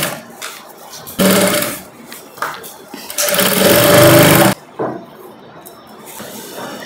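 A sewing machine stitches twisted satin rope in loud bursts of fast mechanical whirring, two long runs with short stops between them, and quiet pauses in the gaps.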